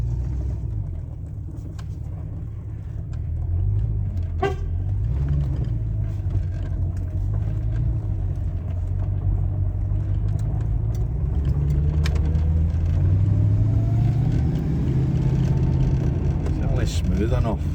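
A Daimler car engine runs at a steady, rumbling idle and then rises in revs, with a misfire, heard close and continuous. A few faint knocks and clicks come through the drone.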